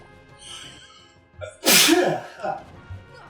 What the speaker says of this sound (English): That was the sneeze.